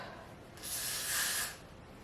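Spray hisses over a glued-down body wave wig in one steady burst of just under a second, close and fairly loud, then stops.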